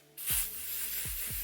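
Hair spray hisses from an aerosol can onto a wig in one sustained burst of about a second and a quarter, close and fairly loud, with faint low thumps underneath.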